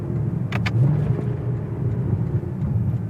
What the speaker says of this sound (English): We're doing some downshifts.